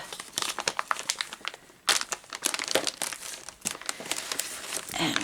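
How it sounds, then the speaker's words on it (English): Plastic packaging of a cross stitch kit crinkles and crackles as it is pulled open, with bursts of close rustling and tearing that come and go irregularly. "So we'll open this kit up."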